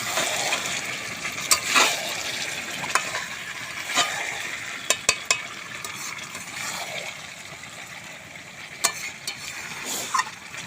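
Chicken pieces for Bengali chicken kosha sizzle steadily in hot oil while a spoon scrapes and stirs, producing scattered sharp clinks and scrapes over a continuous frying hiss. No one speaks.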